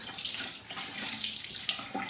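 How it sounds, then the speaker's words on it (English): Tap water runs into a sink while a face is rinsed, a soft, continuous splashing that rises and falls slightly with the hands moving under the stream, with no talking. "And then you can go ahead and rinse it again."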